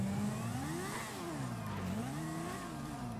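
A motorcycle engine in GTA 5 revs continuously, its pitch rising and falling through several throttle swells, heard up close and alone without any talk.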